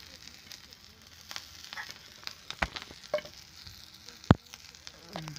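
Coriander, onion and chilli tipped into hot oil, giving a soft steady sizzle with scattered crackles and a few sharp pops, close but fairly quiet.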